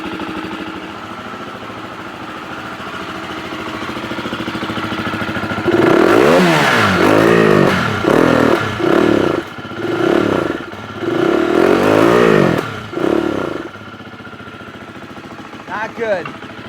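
A Husqvarna FE350 motorcycle with a fuel system fault idles roughly, then revs in a series of short, uneven throttle blips that sag and stumble instead of climbing cleanly, loud and close, before dropping back to idle.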